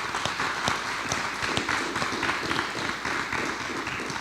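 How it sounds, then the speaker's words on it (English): Sustained applause from a school audience, dense overlapping claps filling the whole stretch at an even, steady level with no pause. "So I think we should applaud on that note."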